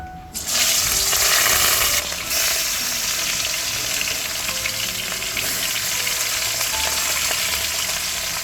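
Turmeric-coated rohu fish pieces dropped into hot oil, bursting into a loud sustained sizzle that settles into a steady crackling hiss.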